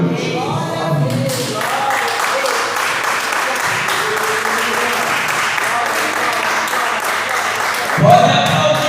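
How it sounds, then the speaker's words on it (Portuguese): A church congregation bursts into sustained applause during a healing and deliverance service, loud and steady for several seconds, with a brief voice at the end. "Pode aplaudir."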